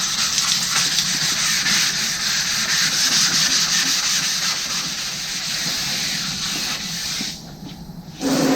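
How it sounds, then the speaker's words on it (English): Hand block sanding of a car body panel with 400 grit paper during hail damage repair: close, steady rasping strokes that continue almost without a break, then a brief drop before resuming. "Sand her down to where you don't see no more black."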